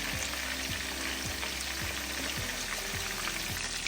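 Chicken pieces fry steadily in a pan, giving a dense, continuous sizzle and crackle with faint rhythmic scraping or stirring, close and even throughout.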